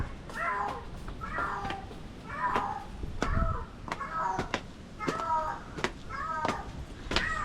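A cat meows repeatedly in a steady series of short, close, fairly loud calls, about a dozen in quick succession, with faint background noise and no clear talk.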